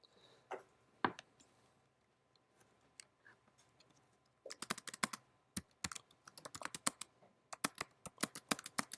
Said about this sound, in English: don't try to remember anything I'm typing right now